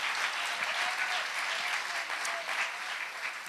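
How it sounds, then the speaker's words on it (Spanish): A church congregation applauds continuously during a Spanish-language sermon, steady clapping filling the space for a few seconds without pause. "Dele el aplauso al Señor Jesús y dele la honra al Señor."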